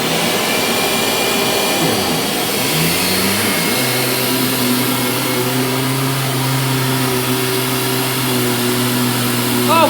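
A Dyson DC25 upright vacuum cleaner runs loud and close on carpet, its motor whine shifting pitch and settling into a steady high drone, with brief talk underneath.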